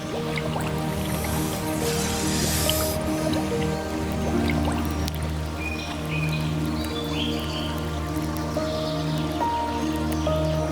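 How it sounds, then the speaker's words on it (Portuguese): Dark water flows in a Pantanal wetland, a steady wet trickle and dripping with squishy gurgles, continuous and fairly close, with faint wildlife calls in the background. "Apenas a água escura continuou a fluir, como se nada tivesse acontecido."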